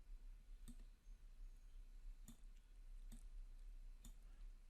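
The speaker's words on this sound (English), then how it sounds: "Just clicking, holding," Computer mouse clicking while tracing around a shape with the pen tool in design software: four sharp, isolated clicks spaced about a second apart, faint and close over a quiet background hum.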